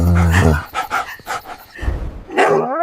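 A dog barks repeatedly at close range in a series of sharp, loud barks with pauses in between, ending in a drawn-out whine-like bark.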